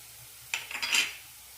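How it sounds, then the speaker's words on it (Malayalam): Onion, garlic, ginger and green chilli sautéed with chilli powder and garam masala in a pan: a brief burst of spoon stirring and scraping against the pan over a faint sizzle, then quiet. "നന്നായി മിക്സ് ചെയ്യാം ഒരു മിനിറ്റ് നന്നായി വഴറ്റി കൊടുത്താൽ മതി"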